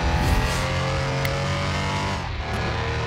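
Volkswagen Fusca in the video game Car Mechanic Simulator, its engine roaring loud and continuous as it accelerates hard, with a brief tire squeal.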